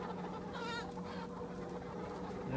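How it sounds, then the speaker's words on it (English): Nova Brown hens clucking as they are rounded up at an allotment, a steady clucking chorus close by with one louder, higher squawk partway through. "Nova Browns. Lovely little birds. Rounding them up there."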